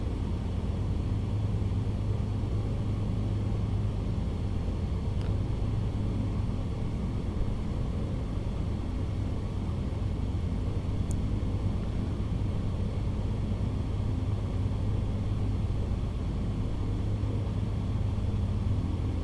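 Steady droning rumble of a bush plane engine in Microsoft Flight Simulator, a continuous low hum holding evenly throughout with no distinct throttle surge.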